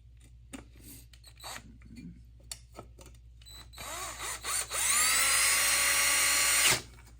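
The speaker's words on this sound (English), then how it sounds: "Okay, drill." Power drill used during a 1982 Yamaha SR250 valve adjustment, first a few short clicks and handling noises, then the motor spins up into a loud, high steady whine for about two seconds before cutting off.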